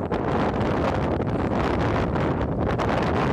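Strong spring wind in a winter barley field being rolled buffets the microphone in a constant, roaring rumble with gusty fluctuations, loud and steady throughout.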